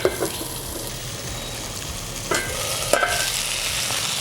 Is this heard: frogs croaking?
no